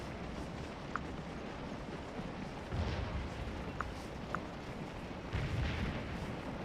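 Counter-battery artillery fire in a Civil War strategy game: distant cannon booms rolling under a constant battlefield rumble, a few heavier blasts standing out among faint sharp reports.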